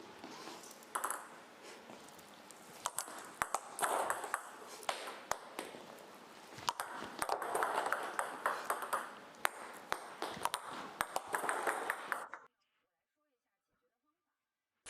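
Table tennis ball struck back and forth during a pushing and looping demonstration, a run of sharp, quick pings and taps in an indoor hall, close and steady for about twelve seconds before stopping.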